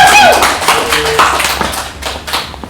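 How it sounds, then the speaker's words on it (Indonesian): An audience claps for a university lecturer introduced on stage, a brief burst of applause with scattered taps that fades quickly, under a voice talking. "Beri tepuk tangan yang Miss Regina."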